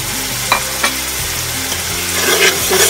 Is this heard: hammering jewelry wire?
no